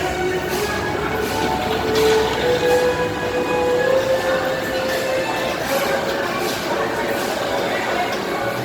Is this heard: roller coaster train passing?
yes